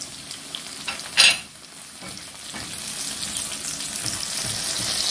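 Tomato tipped into a pan of hot oil and onions, a sharp splash and stir followed by a steady sizzle that builds and keeps hissing to the end.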